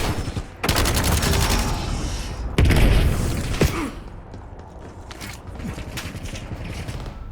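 In the Black Ops 7 campaign, an enemy grenade goes off amid a loud, continuous burst of gunfire, with a heavy boom near the middle and rattling shots fading into quieter battle noise.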